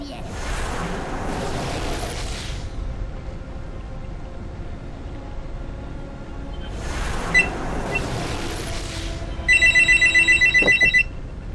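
A telephone rings in a video game, a loud electronic burst repeating rapidly near the end, over a steady background of game sound with surging roars.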